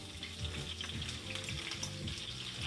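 Steady crackling sizzle of onions frying in a hot skillet, close and continuous, with faint clinks of utensils underneath.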